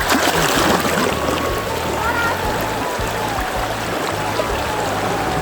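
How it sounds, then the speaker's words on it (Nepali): A swollen, rain-fed river rushes in a steady broadband roar with splashing as someone bathes in it, the flowing water loud and close throughout, with a voice faintly underneath. "यो चाहिँ खोलो रहेको छ नुहाउनको लागि"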